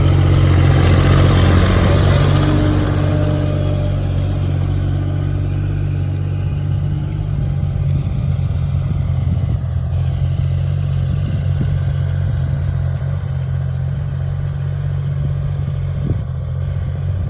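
Two farm tractors tilling a rice field make a steady, loud mid-pitched engine drone with light mechanical clatter, heard up close for the whole stretch with no talking.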